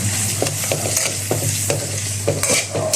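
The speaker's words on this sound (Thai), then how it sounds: "เจียวหอมแดงไฟอ่อน" Shallots fry in oil over low heat while making rice-noodle soup, giving a constant close sizzle punctuated by regular scraping stir strokes of a utensil in the pan.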